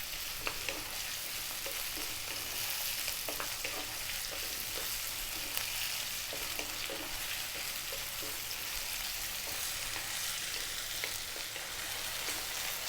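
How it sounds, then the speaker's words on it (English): Potatoes fry in a pan for chicken curry, giving a soft, even hiss of sizzling oil with faint scattered crackles that holds at a steady low level throughout. "We're going to drop in our potatoes. And we're going to cook this for 2 minutes."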